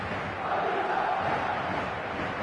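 A stadium crowd in the eFootball video game, a steady roaring wash of cheering and chanting held at an even level throughout, with faint voices mixed in.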